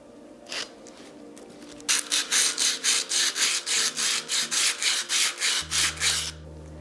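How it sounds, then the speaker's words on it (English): Sandpaper rubbed by hand across bisque-fired pottery in a fast, even series of about fifteen close, raspy back-and-forth strokes, starting after a few lighter scrapes and then stopping, with a low hum near the end and no talking. "You want to sand in the same direction that you've made your pottery."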